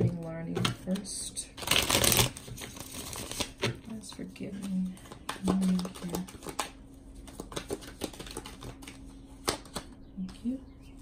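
Witch's Tarot cards are shuffled in a quick burst of papery riffling and slapping, followed by scattered soft card taps and flicks, close and moderately loud, with a person talking softly throughout.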